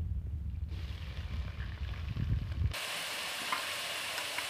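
Chopped onion dropped into hot oil for a banana sabzi, a low rumbling frying sound that changes to a steady, bright hiss of sizzling partway through, close and continuous with no talking.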